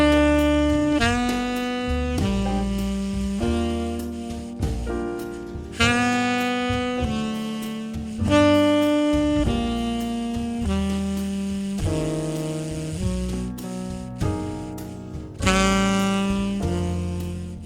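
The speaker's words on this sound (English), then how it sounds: "One thing that we're going to do is we're going to play it as a slow bossa nova." A tune performed as a slow bossa nova on a sustained keyboard or piano, with chord changes every couple of seconds over a steady low bass line, moderately loud and clear with no talking.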